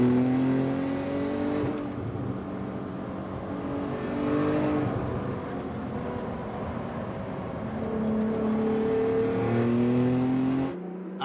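A tuned Nissan 35 GT-R with upgraded turbos and injectors revs hard around the Fuji track, its engine climbing through repeated rising surges with gear changes, loud and sustained.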